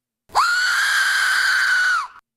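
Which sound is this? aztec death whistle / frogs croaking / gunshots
aztec death whistle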